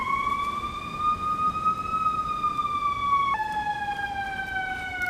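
An ambulance siren wails loudly and close, its tone rising then dropping sharply as the vehicle passes, with no talk over it.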